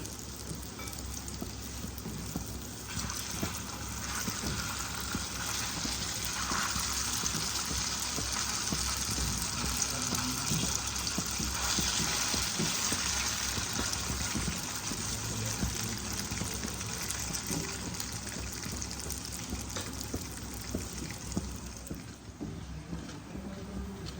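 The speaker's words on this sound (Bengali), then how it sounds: "বাকি কোপ্তাগুলোকেও ভেজে নিচ্ছি" Malai kofta balls fry in hot oil with a steady, even sizzling hiss. The sound holds at a moderate level throughout, and no voices are heard.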